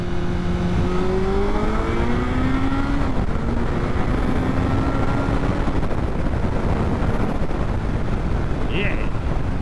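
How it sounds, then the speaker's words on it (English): A car accelerating under a highway overpass at night, with a steady engine drone and rising tone running beneath wind buffeting on the microphone. "Here's another overpass. Hello. Can I accelerate under you?"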